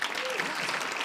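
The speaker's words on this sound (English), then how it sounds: "please clap if you work in an office environment." Brief burst of clapping from a stand-up comedy audience, dense and steady with faint crowd murmur underneath.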